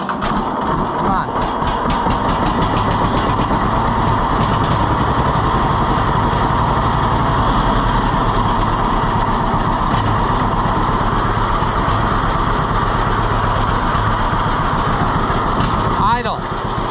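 A John Deere B tractor idles after a cold start, its engine a loud, continuous rhythmic chugging that holds steady throughout, with a brief voice near the end.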